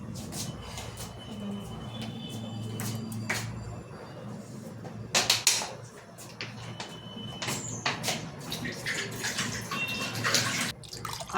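Water trickles and splashes into a cooking pot of rice being prepared for pulao, with intermittent pours, clinks and handling noises in a home kitchen.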